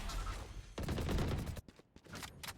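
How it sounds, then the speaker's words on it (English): Rapid gunfire in the Valorant video game: dense bursts of shots and crackling rounds, loud and close, fading into scattered shots near the end. "Gunshots coming in."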